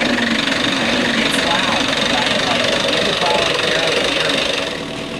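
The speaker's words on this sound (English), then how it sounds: "let's start the engine up and kind of see how loud it is" A boat engine fitted with new sound-insulating foam runs steadily at idle, a loud continuous mid-range drone with a faint knocking texture throughout, easing slightly at the very end.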